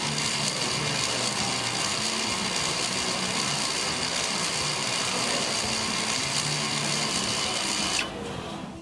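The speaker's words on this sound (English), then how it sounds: "The parking brake motors will now operate." Electro-mechanical parking brake motors on a car's rear brakes run in a steady, dense mechanical whir for about eight seconds, then cut off abruptly into quieter background, with no talking.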